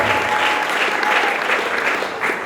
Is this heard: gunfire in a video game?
no